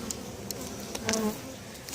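Honeybees buzz steadily around a hive during the setup of new hives and top boxes, a soft, continuous drone with occasional louder passes close by and no talking.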